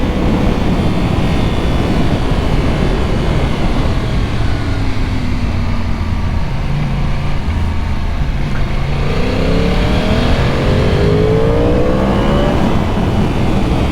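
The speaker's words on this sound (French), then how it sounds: "J'ai même pas assez de place pour pouvoir accélérer à fond les gars" A Yamaha R1 sport motorcycle engine revs and accelerates hard, a loud sustained roar with rising and falling pitch sweeps, close up and continuous without talk.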